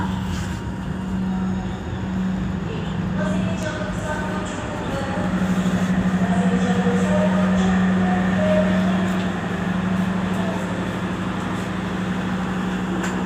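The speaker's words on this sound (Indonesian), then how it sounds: "234 Matarmaja tiba di stasiun Semarang Tawang" Matarmaja economy-class train arriving at Semarang Tawang station, a continuous loud low rumble and hum of the carriages with rising and falling mechanical tones, heard from on board with faint talk in the background.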